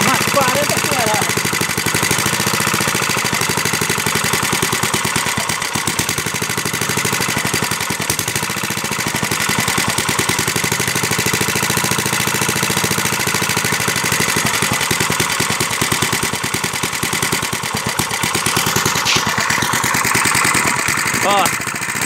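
A Montgomery engine with a badly adjusted carburetor runs continuously with a loud, dense, rattling knock, steady and close for the whole stretch.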